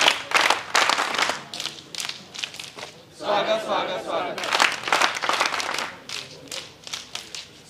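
At a college scout and guide welcome gathering, a crowd claps in brisk rhythm while voices chant together over the beat, the clapping loud and continuous.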